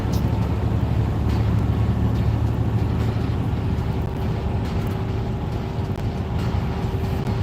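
A Toyota Supra's engine runs rough and uneven, a loud low rumble that stays close and continuous, with wind noise over it.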